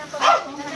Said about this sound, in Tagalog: So maraming aso dito.